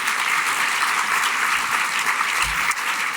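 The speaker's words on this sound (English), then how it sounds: "So please give yourself a round of applause." A large audience claps steadily throughout at the Center on Halsted Human First Gala, a dense, even wash of applause from a crowd.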